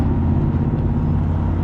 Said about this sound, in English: that's so cool about electric cars, that they have like that weird like UFO like sounds